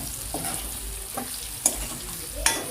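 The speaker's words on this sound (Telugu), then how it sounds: "చూడండి దొండకాయలు అయితే వేగిపోయాయి. ఇందులో కాస్త కరివేపాకు వేసుకుందామండి." Ivy gourd and curry leaves sizzle in a pan while being stirred, a steady frying hiss broken by a few sharp scrapes and clacks of the spoon against the pan.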